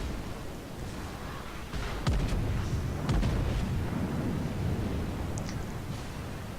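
Big naval guns fire in a video game, heavy booms landing over a dense rumbling background, with two or three sharp blasts and a continuous loud roar of game ambience.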